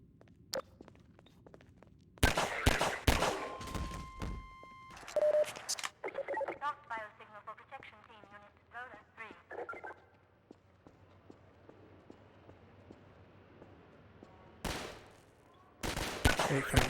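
Xbox video game gunfire from titles like DOOM 3 or Half-Life 2, sharp broadband bursts in clusters near the start and end, separated by a stretch of quieter game ambience and chirpy effects.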